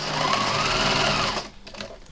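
Sewing machine running a straight seam through thin fabric folded right sides together for a large plush toy, a fast continuous whir for about one and a half seconds, then a few faint clicks as it stops.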